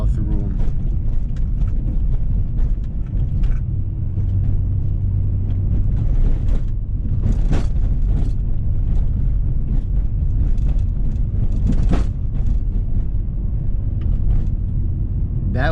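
An E46 BMW wagon on new MaXpeedingrods coilovers drives over a very rough, broken road, giving a loud continuous rumbling road and engine roar with repeated thumps and jolts from the suspension.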